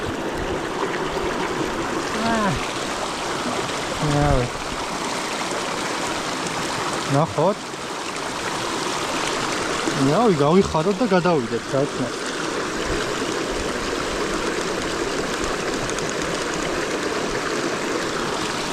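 Cold mountain stream flowing steadily as a continuous wash of water, close by, with people talking over it at intervals.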